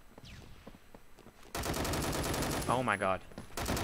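Rapid bursts of high-recoil automatic gunfire in the online shooter Phantom Forces, loud and dense after a quieter opening, with a player exclaiming over it.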